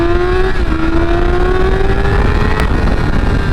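A Yamaha R6 600 sport motorcycle engine drones loudly and continuously, its pitch climbing smoothly as the bike pulls through the rev range, close and unbroken on a warm-day ride.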